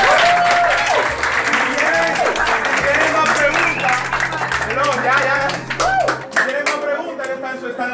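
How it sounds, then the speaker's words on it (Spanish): Sustained audience applause at a Sketch Dom 2017 illustration event, dense clapping with scattered cheers running for several seconds and then tapering off, mixed with background voices and music. "Un aplauso para Leo, por favor."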